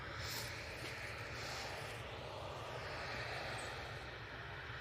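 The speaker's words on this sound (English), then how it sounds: "that Embraer that just went out, that was off to Aberdeen" An Embraer jet departing for Aberdeen gives a faint, distant, steady engine roar that holds evenly for a few seconds.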